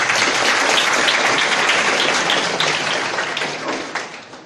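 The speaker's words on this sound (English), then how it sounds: "If you smile, then give yourself a round of applause." Seminar attendees give themselves a loud round of applause, a thick burst of many hands clapping close by that thins slightly toward the end.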